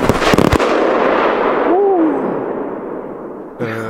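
Finale of a Finalbox Blau firework battery exploding at a New Year's firecracker outing: a dense rapid cluster of loud close bangs at the start, then a long crackling, hissing wash with a brief whistle and a sudden new burst near the end.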